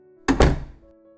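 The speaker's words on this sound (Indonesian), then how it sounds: "Tanpa disangka pintu dibuka secara kasar." A door is shoved open roughly, giving two quick heavy thunks close together and a brief rattle that fades out, with no voices.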